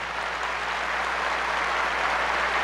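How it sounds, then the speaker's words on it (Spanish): A church congregation applauds steadily after a call for a loud round of applause, a dense, even wash of clapping that stays level throughout with no voices over it. "Démosle un fuerte aplauso."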